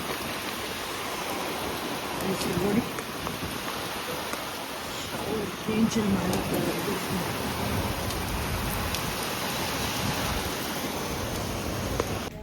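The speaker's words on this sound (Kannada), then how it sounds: "ಎಷ್ಟು ಭಯಂಕರ ಮಳೆ ಬಂತು" Heavy evening rain pours down in Bangalore around 7:30 at night, a steady, fairly faint wash of hiss and patter over twelve seconds, with a few brief spoken words.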